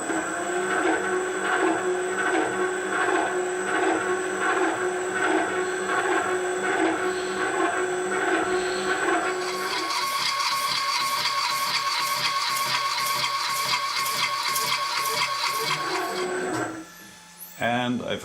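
A metal shaper cuts a bronze bushing on a rotary table with a loud, steady rhythmic mechanical clatter of repeated strokes. The tone shifts partway through and the cutting stops near the end.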